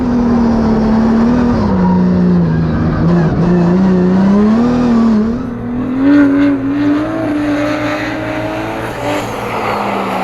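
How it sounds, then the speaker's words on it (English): A Formula Drift car held at half throttle slides with its tires slipping, its engine a steady, loud, continuous drone that rises and falls slightly in pitch, with scrubbing tire noise woven through throughout. "See how he's just like half throttle the whole time, and then everything's slipping and sliding."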